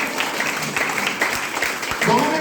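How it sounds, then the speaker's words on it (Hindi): A crowd applauds in a hall at a DXN health and business gathering in Nepal, the clapping broad and steady under a man's loud speech. "और डॉक्टर ईपीएन जोशी सर के लिए जोरदार ताली।"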